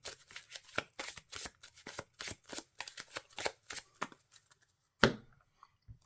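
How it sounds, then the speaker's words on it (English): Cards from a Marvel Champions deck being shuffled at a table, a run of quick crisp riffling bursts close to the mic, ending with a couple of sharper card taps. "We'll shuffle a full auto back into the deck."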